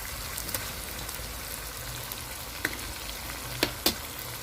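Egg frying in a pan during fried rice made from leftover fridge vegetables, a soft steady sizzle with a few faint crackling pops and no speech.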